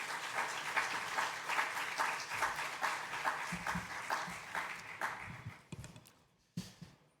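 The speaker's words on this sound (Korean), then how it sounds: "목사님 나오실 때 여러분 큰 박수로 환영하겠습니다" A congregation at a university chapel service claps to welcome a pastor to the stage, a steady wash of applause that holds for several seconds, then thins out and fades to a few last scattered claps.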